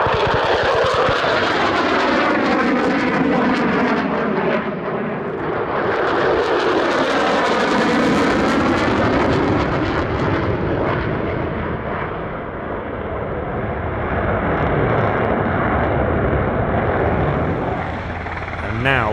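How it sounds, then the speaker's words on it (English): F-35 and Super Hornet jets fly an airfield attack display at the Australian International Airshow, a loud jet roar that swells, fades, then surges again in passes, with heavy rumbling and brief talk. "Super Hornets then commence a short airfield attack scenario."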